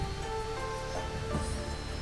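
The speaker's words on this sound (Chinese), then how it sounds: "你看这个瀑布的造型，每天哗哗哗的往下流。" Water rushes in a steady, dense roar with no pauses, like a waterfall heard up close.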